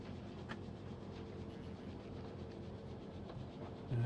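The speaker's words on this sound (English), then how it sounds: "Trains are like really unrealistically fast currently" Train in the modded factory-building game Factorio, running as a steady low rumble with faint rail clatter, fairly quiet and unbroken until a louder low thump at the end.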